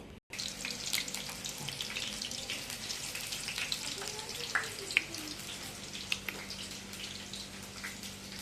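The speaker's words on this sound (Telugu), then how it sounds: "ఆయిల్ వేసుకున్నాక మనం ఉల్లిగడ్డలు కట్ చేసి పెట్టుకున్నాం కదా ఇవి కూడా వేసుకోవాలి" Chopped onions frying in hot oil in a pan for an okra (bendakaya) fry, giving a steady broadband hiss and crackle that runs throughout with no talk.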